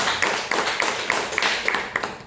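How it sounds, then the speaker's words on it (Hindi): Sharp rhythmic clapping, about eight evenly spaced claps from a small group, close and steady. "एक जोरदार ताली"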